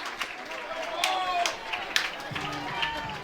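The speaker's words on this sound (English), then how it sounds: "Crowd trying to urge on Krenzel" A college baseball crowd at a Tennessee home game cheers and claps to urge on the pitcher. The cheering stays moderate and steady under a play-by-play commentator's voice.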